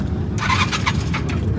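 An old classic car's engine rumbles close by at a night car meeting in a highway service area, revving in a couple of quick bursts over a steady low idle.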